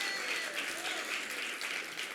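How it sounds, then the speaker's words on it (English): Steady applause from a crowd at a college awards ceremony, continuous clapping at moderate volume throughout, no clear voices over it. "so another applause for them."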